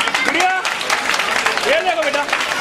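Children clap together at a charity event for needy children run by a social organisation in Malka Ganj, with a scattered patter of applause under loud voices talking and calling out.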